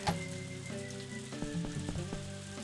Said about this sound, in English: The rain sound is like covering it up a little.